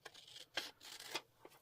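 Extra-long scissors fussy cutting around a shape, with a few soft, quiet snips and paper rustles spaced unevenly over a hushed background.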